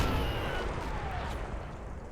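A heavy tank gun round slams into a Sherman tank in Combat Mission: Battle for Normandy, a single loud boom at the start that rolls off into a fading low rumble.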